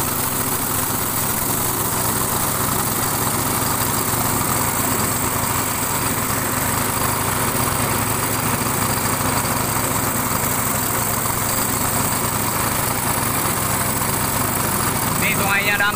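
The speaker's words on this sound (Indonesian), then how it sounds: "Ini mesinnya" Yamaha outboard engine on a passenger river boat running steadily at close range, a continuous droning hum with faint voices underneath.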